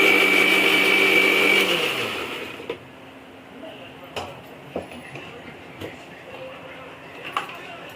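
A kitchen blender whirs loudly, grinding onions into paste for pav bhaji, then winds down and stops after about two seconds, leaving faint clinks and a voice talking.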